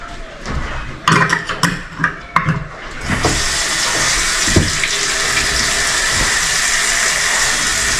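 Water runs from a tap into sink basins in a house under remodeling, first in a few splashy bursts, then as a steady, loud, continuous gush that fills out the rest of the time with no talking.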